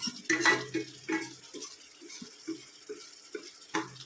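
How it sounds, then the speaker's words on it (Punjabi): A metal spoon scrapes and clinks against a pan while masala roasts in oil, making irregular close knocks and scraping strokes with a faint sizzle underneath. "ਇਹਨੂੰ ਭੁੰਨਾਂਗੇ ਆਪਾਂ ਪਹਿਲਾਂ ਚੰਗੀ ਤਰ੍ਹਾਂ"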